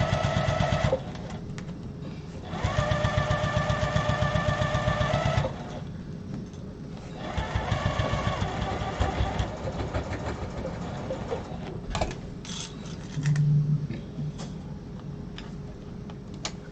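A sewing machine labours through vinyl in loud stop-start runs of rapid mechanical ticking, with several bursts separated by pauses and a low hum between them.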